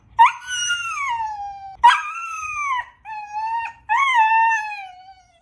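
A dog tied on a chain whines and howls in long drawn-out wavering cries, four loud close howls in a row with short breaks between them and no voices.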